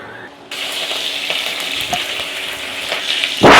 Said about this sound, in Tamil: எண்ணெய் காயவும் சிறிதளவு சீரகம் சேர்த்துக்கலாம்.